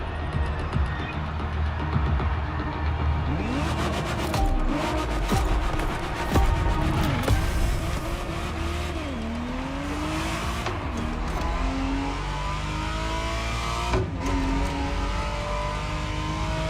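A Ferrari Testarossa engine revs in The Crew Motorfest, with rising and falling pitch sweeps as it accelerates, plus tire squeals and skids over a steady rumbling drone.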